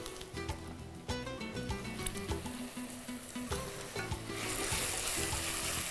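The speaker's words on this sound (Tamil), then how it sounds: "தக்காளி பழத்தை போட்டுடலாம்." Squeezed tomatoes dropped into a pan with sautéed ginger-garlic paste, frying with a wet, rising sizzle and scattered clatter of utensils, building to a steady hiss by the end; no talking.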